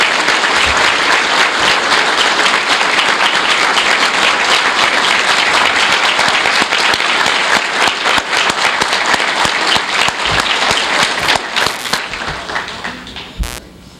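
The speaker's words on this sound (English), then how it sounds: "By the way, ladies and gentlemen, let's give a great big round of applause for Guy's former co-workers at the Scranton" Sustained audience applause at a retirement celebration, loud and dense for about eleven seconds before thinning out and fading at the end, with no talk over it.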